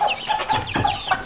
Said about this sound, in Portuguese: Eu tô aí com uma galinha aí